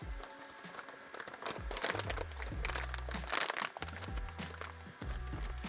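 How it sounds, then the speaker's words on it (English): Resealable plastic bags being pulled open, with crinkling and crackling of plastic in several bursts and a low hum underneath. "I love popping these open when they're resealable"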